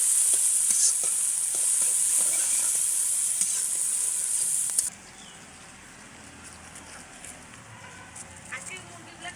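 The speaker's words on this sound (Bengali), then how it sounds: "পেঁয়াজগুলো একটু আদা ভাজা করে নেব" Onions and ginger frying in a pan and being stirred, a loud sizzle with scraping that drops suddenly halfway to a quieter simmer, while someone talks over it.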